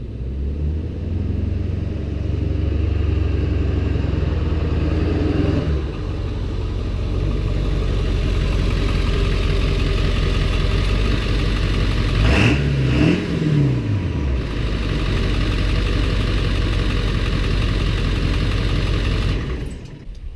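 A truck engine runs steadily close by as it pulls into a driveway, a deep continuous rumble with a brief rev swell midway before settling back to a low idle-like drone, with no talking.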